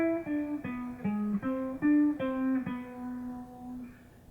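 The main lick, a rhythm guitar part, is played on guitar as a run of short picked notes in a steady rhythm, ending on a longer sustained note, close and alone.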